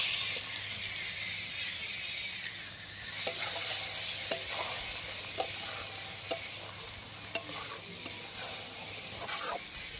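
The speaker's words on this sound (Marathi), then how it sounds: "आता याला कंटिन्यू हलवत राहायचं आपल्याला म्हणजे आपली भुर्जी मोकळी मोकळी होते चांगली" Egg bhurji made with four eggs fries in a pan over a wood-fired stove, giving a steady loud sizzle. A spatula scrapes and clicks against the pan now and then as the eggs are stirred. No one speaks.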